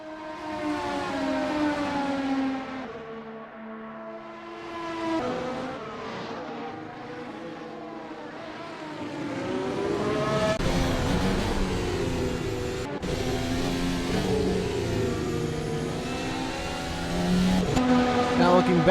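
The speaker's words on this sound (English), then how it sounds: "Over-revving the car just a hair." An Audi Formula 1 car in the Assetto Corsa racing game screams at high revs, the engine note rising and falling through gear changes, with other cars' engines mixed in under commentary.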